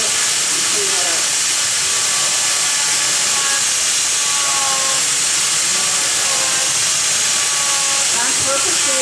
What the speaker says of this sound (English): The body of my grinder is now getting in the way.